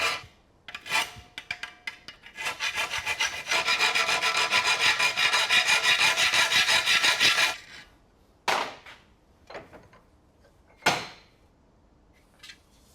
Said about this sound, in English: I'm actually just going to mark it by eye to start off with and then start filing it